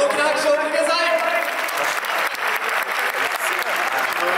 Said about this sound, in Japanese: 改めて新入団選手の皆さんに大きな拍手を送って